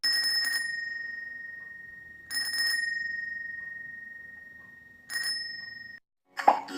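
A bicycle bell sound effect rings three times at steady intervals, each a bright metallic ding with a long fading ring, followed by a brief sharp noise at the end.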